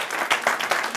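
A television talk show studio audience claps in a short burst of applause, with several louder swells of hand claps close by.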